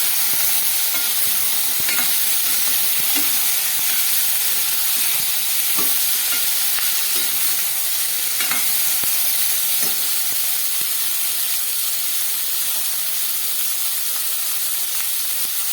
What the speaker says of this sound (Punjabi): ਪਿਆਜ਼ ਟਮਾਟਰ ਇਹ ਸਾਰਾ ਆਪਾਂ ਇਕੱਠਾ ਹੀ ਪਾ ਦੇਣਾ ਇਹਦੇ ਵਿੱਚ ਦੇਖੀ ਬਦਾਮ ਪਾ ਦੇ ਇਹਨੂੰ ਆਪਾਂ 2 ਮਿੰਟ ਭੁੰਨਾਂਗੇ